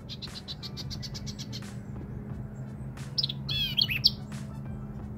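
Bird chirping on a mountainside, a rapid series of high tweets at first, then a brief burst of warbling calls later, fairly close over a low steady outdoor hum, with no talking.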